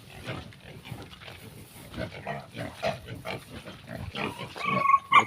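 Piglets in a pig pen grunt and squeal in a dense, continuous chorus, close and busy, with a person talking over the animal noise.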